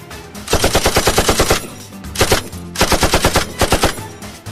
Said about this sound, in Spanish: Unos disparos de una arma automática empezaron a resonar por todas partes.